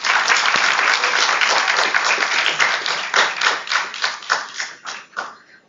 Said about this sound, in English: I request everyone to please give a round of applause for sir.